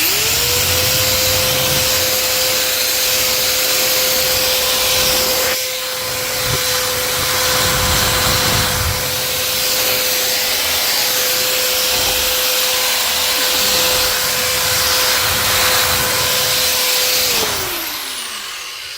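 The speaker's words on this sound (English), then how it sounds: "now our drill gun should be working" A power drill with a brush attachment spins up to a steady high whine and holds it for a long stretch, scrubbing oil-stained cabinets underneath, then winds down at the end.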